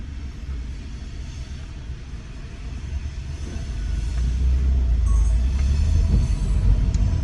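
A deep, steady rumble of a train rolling by overhead on a bridge over a road in downtown Jackson, Mississippi, building slightly louder midway and continuing without pause; no talking.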